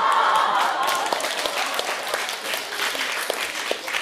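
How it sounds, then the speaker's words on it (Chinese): Sustained audience applause at a live Deyunshe crosstalk comedy show in a small theatre at Tianqiao, a dense, steady wash of many hands clapping that stays loud throughout with a few sharper individual claps standing out. "你看他们鼓掌就代表我写完了"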